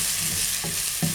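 Garlic fries with onion in a pan, giving a steady close sizzle with a few stirring scrapes over about a second.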